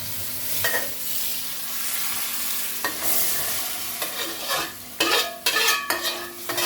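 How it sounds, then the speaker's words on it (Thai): Pork stir-frying in a pan for a Thai pork and taro curry, a steady sizzle under repeated scraping and clanking of a utensil against the pan, growing busier toward the end, with no voices. "ใช้กระทะผัด"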